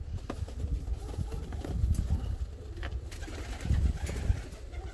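Fancy and costume pigeon breeds coo and call in a loft, with soft wing flutters and foot shuffles mixed into a steady, fairly close chorus of several birds and no talk.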